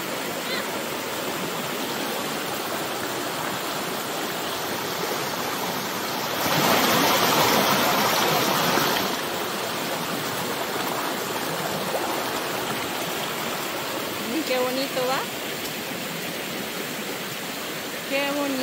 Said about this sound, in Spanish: Va el río, ahorita va limpita la agüita